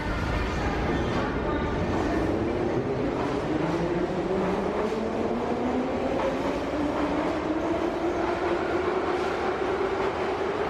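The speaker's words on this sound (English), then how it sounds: "I gotta catch the train" A Moscow metro train rolls along underground, its rising whine climbing steadily over a loud, continuous rumble and rattle of the carriages throughout.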